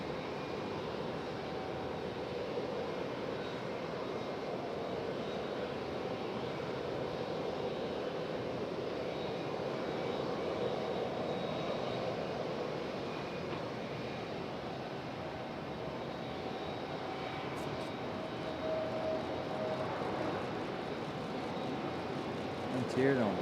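A Frontier Airlines airliner landing at Raleigh-Durham International Airport gives a steady, fairly distant broadband jet roar that holds for over twenty seconds, with faint voices now and then.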